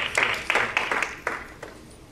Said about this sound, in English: give the Lord a hand clap of praise on the way down